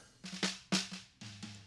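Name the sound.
snare drum, bottom microphone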